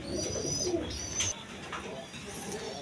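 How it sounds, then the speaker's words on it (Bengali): A breeding pair of Giribaj pigeons coos softly nearby, with low throaty rolling calls amid faint background chirps. "এখানে এক পেয়ার গিরিবাজ কবুতর আছে। দেখেন ব্রিডিং মুডে আছে"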